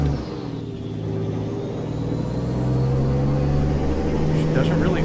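A truck engine in American Truck Simulator rumbles and builds as the rig pulls away, its low drone rising in pitch and loudness across the clip, with a voice talking over it.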